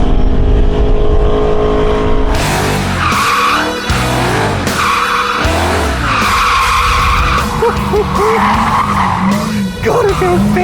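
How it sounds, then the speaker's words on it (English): Go-kart engine whining and revving around a track with repeated tire skids and squeals, loud and close throughout, pitch rising and falling through corners. "I might actually set the slowest lap ever around this go-kart track"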